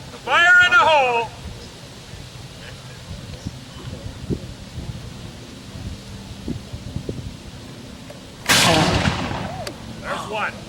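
A historical cannon fires at a reenactment encampment on the shore of Lake St. Clair in Grosse Pointe, one loud booming blast late in the clip after a quiet stretch of ambient outdoor noise, with a voice talking near the start.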